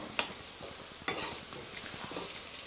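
Small onions sizzle in a pan with a little salt, a steady frying crackle broken by a few sharp scrapes of stirring, close and fairly loud.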